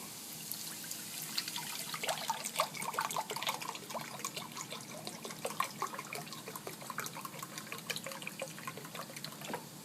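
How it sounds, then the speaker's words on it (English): Broth poured into a quinoa stew pot, a faint, steady trickling and splashing of liquid that runs the whole time at low level, with no voices. "we are going to add 6 cups of broth"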